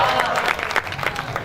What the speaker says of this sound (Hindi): हाँ, ताली आली बजाओ